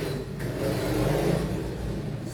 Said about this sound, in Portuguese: meu filho tá chegando aqui de moto, tá fazendo uns barulhos que vai atrapalhar a live